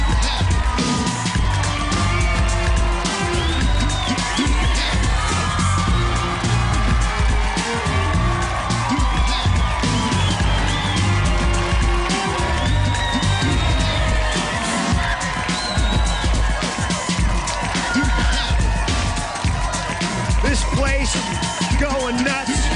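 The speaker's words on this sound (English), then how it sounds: "Take a listen to this crowd." An arena crowd at a televised sports competition cheers, whoops and screams continuously, loud and dense throughout, with occasional voices over the roar.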